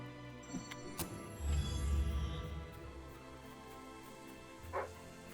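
A dog barks a few times in the Fable III game soundtrack, short yips over a low rumbling background and steady tonal music.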